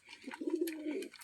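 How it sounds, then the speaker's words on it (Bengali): Pigeons of mixed breeds in a loft giving a close, sustained, throaty coo that swells and rolls for about a second. "বিভিন্ন প্রজাতির কবুতর আছে এখানে"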